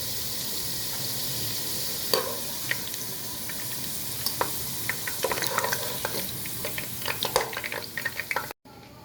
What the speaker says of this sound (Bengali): আলু ভাজার সেম তেলে আমি মুরগির মাংস ভেজে নিচ্ছি